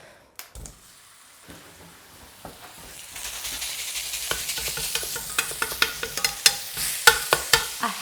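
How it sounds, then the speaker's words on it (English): About 500 grams of beef mince fries in a pan, a sizzle that grows louder and hissier as the meat goes in, with frequent scraping stirs and clacks of a utensil breaking it apart. "So I'm gonna fry off some mince."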